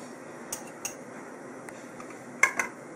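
A few light clinks of a utensil against a bowl while mayonnaise, pickle relish and parsley are stirred together for tartar sauce, quiet and spaced out over a soft background.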